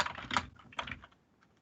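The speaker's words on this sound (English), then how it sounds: "I can just start typing." Typing on a computer keyboard: short, close bursts of key clicks that thin out into a few scattered soft taps, with no talking.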